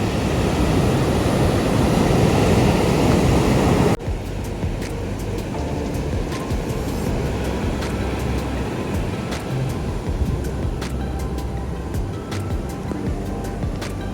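Ocean surf pounding a beach as Hurricane Helene approaches, a loud, steady broadband roar of breaking waves and wind, heaviest in the opening seconds and then a continuous wash of churning water.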